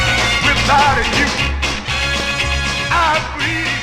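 A 1963 soul 45 plays from a vinyl record, a dense, loud full-band mix with steady bass and a lead vocal line sliding over the top.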